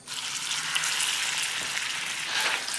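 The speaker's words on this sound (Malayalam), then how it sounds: "പരിപ്പിൻ്റെയും പഴത്തിൻ്റെയും മിക്സ് നെയ്യിലേക്ക് ചേർക്കാം" A lentil and banana mixture sizzles in hot ghee in a pan, a steady close frying hiss that holds for the whole few seconds with no talk.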